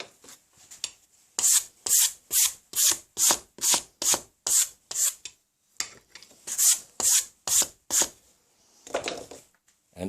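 A file is draw-filed by hand along the octagonal flats of a steel swivel breech rifle barrel, giving close, loud rasping strokes in an even rhythm, with pauses between bursts.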